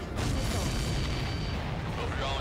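A deep, rumbling explosion in Ace Combat 7: Skies Unknown fills the whole moment, a heavy boom that rolls on loudly with a dense crackling roar behind it.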